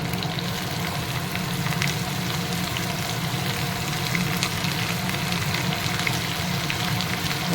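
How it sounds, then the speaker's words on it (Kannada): Curry leaves sizzle in hot oil in a pan while cooking vegetable fried rice, a dense, steady close crackle and hiss with no talking. "ಇದು ಸ್ವಲ್ಪ ಫ್ರೈ ಆದಮೇಲೆ ಇದಕ್ಕೆ ಒಂದು ಸ್ವಲ್ಪ ಕರಿಬೇವು ಹಾಕ್ತಾಯಿದ್ದೀನಿ"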